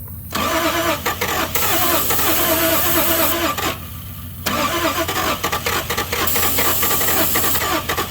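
A Toyota Supra left sitting for 27 years cranks and catches, its engine running loud and close with a rough, uneven mid-pitched roar, a brief dip in the middle, then revving back up and holding.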